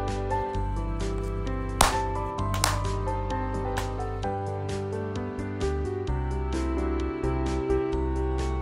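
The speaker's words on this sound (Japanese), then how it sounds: "二礼二拍手一礼。" Two sharp ritual hand claps ring out at Abashiri Shrine in Hokkaido, spaced under a second apart and standing out over a steady background of sustained music.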